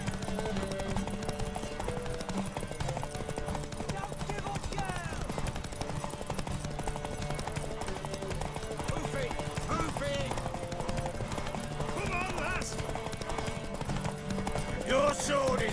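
In The Witcher 3, a horse's hooves clip-clop in a steady trotting rhythm under game music, joined near the end by brief louder effects.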